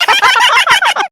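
Country chickens cluck in a quick, close run of loud, squawky calls lasting about a second, with no voices over them.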